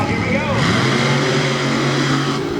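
Monster trucks, including the Lucas Oil Bigfoot 18, launch side by side off the starting line at a Lima, Ohio race, with loud, roaring engines rising steadily in pitch under an excited announcer's voice.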